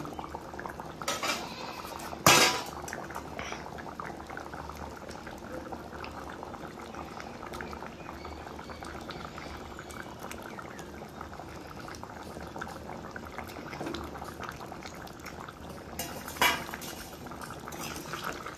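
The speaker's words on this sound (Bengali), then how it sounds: "তো বন্ধুরা ঝোলটা ফুটে উঠেছে" Rohu fish curry broth with taro and aubergine boils steadily in a pot, a continuous bubbling simmer with a couple of sharp metallic clinks of utensils against the pan.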